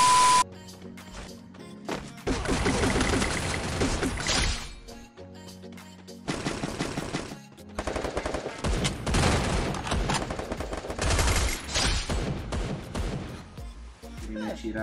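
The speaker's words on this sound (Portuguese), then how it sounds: "Já tomou todos os tiros do mundo" Gunfire in the Free Fire battle royale game: repeated bursts of rapid shots in several clusters, loud and close, broken by short quieter gaps, with some voice underneath.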